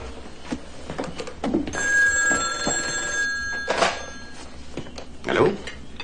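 An old-style telephone bell rings nearby in one long metallic trill, with soft movement and knocks around it and a voice speaking briefly afterward.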